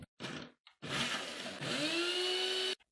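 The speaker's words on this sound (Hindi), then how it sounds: "पाइनएप्पल लिए, सिरप के साथ ही हम ग्राइंड करेंगे।" A kitchen blender grinds pineapple chunks in syrup in several short bursts, a gritty whirring that starts and stops, then settles into a longer run with a rising motor whine before cutting off.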